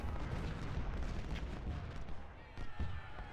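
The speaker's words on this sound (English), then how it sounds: "Whole bunch of artillery here, though" Artillery fire in the video game Ultimate General: Civil War, a faint, steady rumble of distant cannon booms and scattered shots that blend into a continuous battle din.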